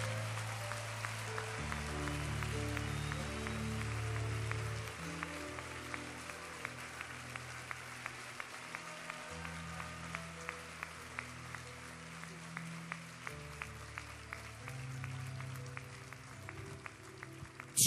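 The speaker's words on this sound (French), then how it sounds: "And the Lord deserves our clapping." A church congregation applauds during a bilingual French and English service, with a long stretch of faint, sustained clapping under low organ or keyboard tones. Sharper individual claps stand out toward the end.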